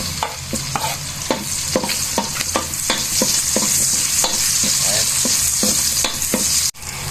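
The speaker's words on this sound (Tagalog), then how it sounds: "Gisa na tayo ng bawang. Tapos lagay na natin sibuyas." Garlic and onion sautéing in a pan for Filipino home-style humba, a loud steady sizzle broken by regular spatula scrapes and taps against the pan, close up and with no talking.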